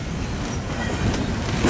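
A freight train rolls along the main line at Commerce, a steady low rumble of railcars with faint rhythmic clatter, moderately distant and unbroken, without talk.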